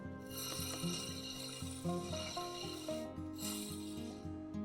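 A rock cabochon from the Yellowstone River has its edges rounded and beveled on a humming grinding machine, with repeated rasping, rubbing strokes against the steady motor drone, close up and without talk.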